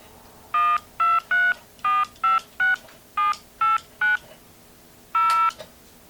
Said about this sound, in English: I programmed that so that I can show you that the touch tone is indeed functioning correctly